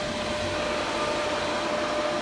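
A vacuum pump running during an HVAC system evacuation gives a steady, loud, unbroken broadband roar with a faint whine, holding level with no talk over it.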